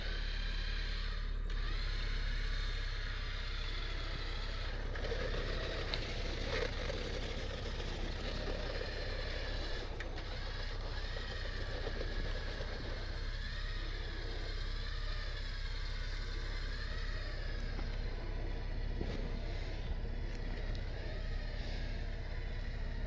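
A tracked Jeep's engine idles steadily in reverse with no throttle, a continuous low mechanical rumble heard from nearby with a faint background hiss.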